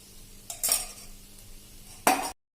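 A spoon spreads about a teaspoon of ghee over an instant leftover-rice dosa on a pan, a few soft scrapes and clinks close by, with a louder scrape near the end before it stops.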